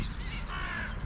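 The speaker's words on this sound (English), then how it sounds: "crows are having a good morning" Crows cawing outdoors on a quiet morning, a single harsh call heard fairly near over steady background noise, with no talk.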